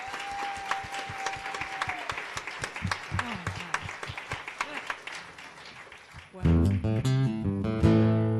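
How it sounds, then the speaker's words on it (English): A church congregation gives a round of applause, a crisp, irregular burst of many hands clapping for several seconds before music with sustained tones takes over near the end. "I think we all need to give Rev David a round of applause."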